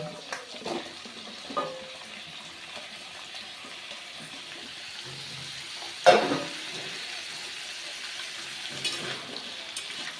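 Pumpkin and tomato, added to already fried vegetable stalks, are stirred in a hot pan, with a low sizzle broken by irregular spatula scrapes and clacks, one sharp knock standing out midway.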